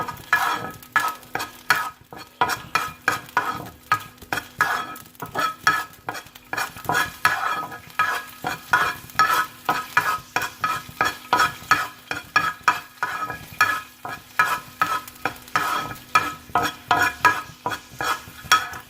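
Chicken pieces sizzle in a pan with garlic ginger paste while a spoon stirs in a steady rhythm, each pass bringing a scrape and a burst of frying for close to twenty seconds.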